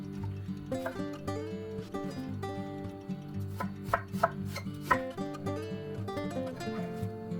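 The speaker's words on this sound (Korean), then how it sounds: "양파 반개는 채를 썰어 준비합니다." A knife slices half an onion into thin strips for a Korean home-cooked dish, with quiet, irregular chopping taps set against steady background music.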